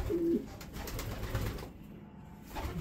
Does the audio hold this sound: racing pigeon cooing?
yes